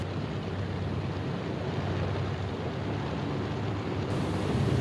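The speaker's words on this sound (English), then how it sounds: "Only the roaring engine sound of the bombers pounding through the quiet English countryside." B-17 Flying Fortress bomber engines, a steady, dense, rumbling roar from several engines at once over the English countryside, continuous and unbroken.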